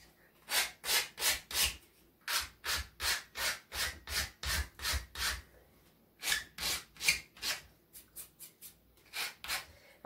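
A small rasp shapes a wooden mini axe handle in quick, rhythmic back-and-forth strokes. The scratchy filing comes in bursts with brief pauses between runs, close and clear, with no talk.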